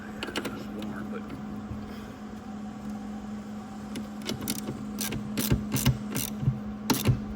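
A socket ratchet works a tight, cross-threaded bolt on an old Yamaha Banshee, rapid clicking bursts building in the second half over a steady low workshop hum.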